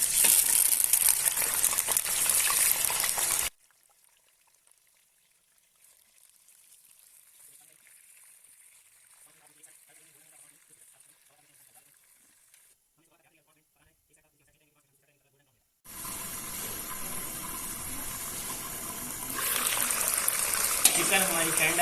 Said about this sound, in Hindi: घी हमारा गर्म हो गया, अब इसमें हम चिकन शामिल कर लेंगे